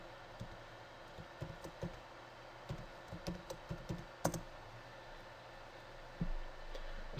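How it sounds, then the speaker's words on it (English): Someone types a password on a computer keyboard for a staff login page, producing a series of light, close key clicks in short irregular bursts, then a brief duller rustle near the end. "We're going to plug in our password."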